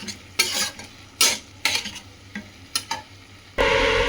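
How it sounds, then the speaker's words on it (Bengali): Potatoes soaked beforehand and now sautéed with spices in a pan for a lentil-fritter curry, stirred in several quick scraping strokes over a low sizzle, then a louder burst of frying hiss at the end. "আলুটা মশলাটার সাথে খুব ভালোভাবে কষা হবে"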